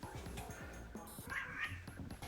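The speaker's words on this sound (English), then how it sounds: "I let her in the room and she's still meowing" A pet cat meows indoors, loud and close, with several drawn-out, wavering cries in quick succession that rise and fall in pitch.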